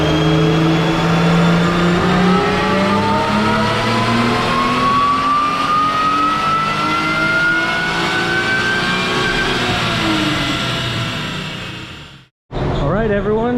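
A supercharged Acura TL engine revs hard and steadily climbing on a dynamometer pull, loud and close for about twelve seconds, with a rising whine, then cuts to a brief silence before a short burst of sound resumes.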